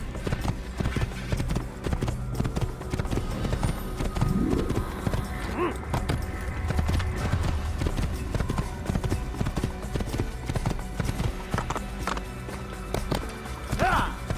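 Horse hooves clip-clop steadily in Assassin's Creed as a rider travels along, a continuous rhythmic gait set under a voice talking and game music.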